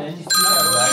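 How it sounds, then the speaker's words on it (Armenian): A telephone rings with a loud, sustained bell-like tone that starts abruptly and holds steady, with a voice briefly heard underneath before it begins. "Զանգեցին։"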